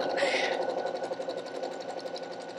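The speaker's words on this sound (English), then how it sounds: "I'm working on on my 8-year-old daughter's sewing machine here" A child's sewing machine stitches steadily with a fast, even mechanical whir and rhythmic clatter, fairly quiet and close, with a brief brighter burst of noise at the start.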